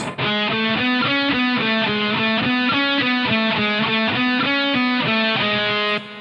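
Distorted electric guitar plays a fast, evenly repeated picking pattern of short notes, loud and steady throughout, then stops.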